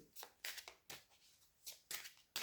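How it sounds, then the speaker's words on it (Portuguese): Tarot cards being shuffled by hand in repeated crisp riffling bursts, close and clear, with short pauses between each burst. "Vamos baralhar um pouco as cartas."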